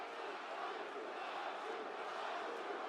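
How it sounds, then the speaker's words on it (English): Arena crowd in Philadelphia roaring and cheering for wrestler Jacob Fatu at a WWE SmackDown event, a dense, steady wall of voices sustained throughout with no break. "They're cheering for Jacob."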